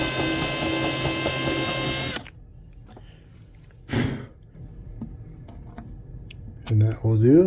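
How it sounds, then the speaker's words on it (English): Power drill boring a hole in a Takamine ST212 12-string acoustic guitar during repair, a loud steady whine for about two seconds that then stops, followed by quieter handling noises and a short burst. "So now the next step is I have to drill the hole for the threaded portion."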